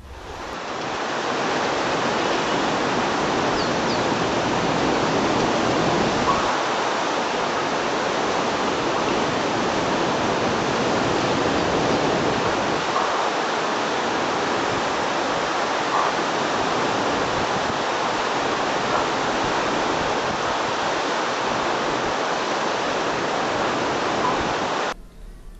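The Alaknanda river rushes fast at the Rudraprayag confluence, making a steady, loud, broadband roar of water that stays unbroken throughout.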